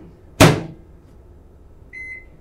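A mug goes into a microwave oven and the door shuts with one sharp close thud, followed by a short electronic beep from the oven.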